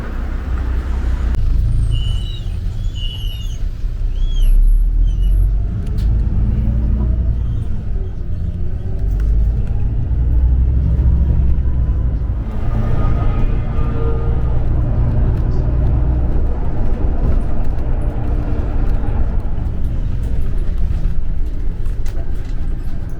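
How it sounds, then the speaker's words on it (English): A crowded city bus, route 58, rides along with a steady low engine rumble and road noise, a hiss of air brakes and faint chatter from passengers. "And this is our bus number 58."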